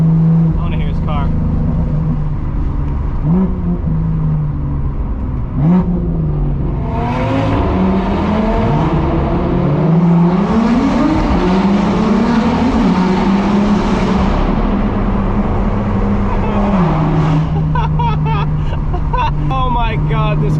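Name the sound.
sports car engine, BMW M2 or Audi RS3, loud revving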